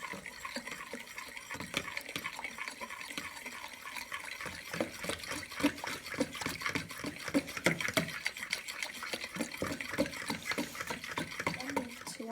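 A tablespoon of brown sugar stirred vigorously into liquid in a bowl, rapid rhythmic scraping and sloshing close up, continuing steadily throughout.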